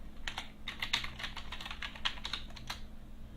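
Quiet, steady keystrokes patter on a computer keyboard, a run of close, light clicks at an uneven typing rhythm with no voices.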